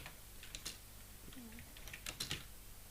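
Soft keystrokes as Python code is typed on a computer keyboard, a scattered run of light clicks in small bursts against a quiet room tone, faint and close, no speech.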